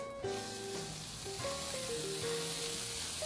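Green peppers sizzle in butter in a hot pan, a steady frying hiss running throughout, with some stirring and pan contact and faint tonal notes of background music.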